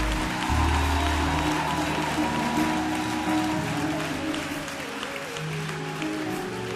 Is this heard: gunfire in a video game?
no